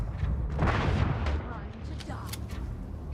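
Gunfire in a multiplayer video game, a few heavy booming shots close by, with a voice speaking over the noise.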